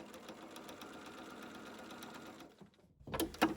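A sewing machine stitching binding onto a quilt runs in a fast, even mechanical patter, then stops, followed by a few soft handling rustles and taps nearby.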